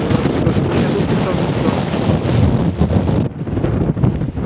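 Wind blows hard against the microphone in a continuous rush on a mountain in the Bieszczady range, easing briefly near the end before picking up again.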